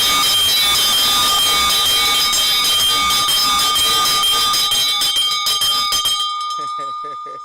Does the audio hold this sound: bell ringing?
yes